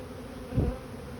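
Honey bees hum steadily in an open hive during mite treatment, a continuous close insect drone with a brief louder swell as one passes near.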